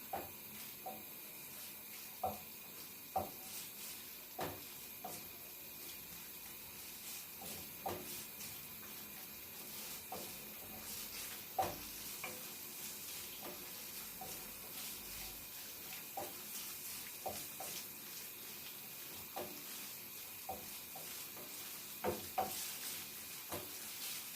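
Diced pancetta sizzles steadily in a hot pan, with a spoon scraping and stirring in irregular knocks and clicks over a continuous close frying hiss.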